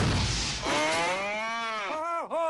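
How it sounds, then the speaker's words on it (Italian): A single long cow moo, drawn out and wavering, ending in a dip and a short final lowing. "Peter, dove hai preso quella mucca?"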